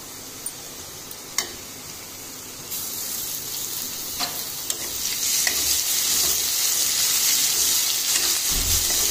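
Crushed garlic sizzles in hot oil in a pan while cooking moth bean usal, a steady close frying hiss that grows louder partway through, with light stirring scrapes.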